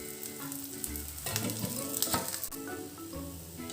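A fasting dosa cooks on a high-heat pan with ghee drizzled around its edge, producing a steady, close sizzle with crackling bursts and a few brief scraping sounds.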